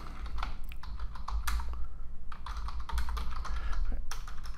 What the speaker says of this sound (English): So I'll just click here and type in.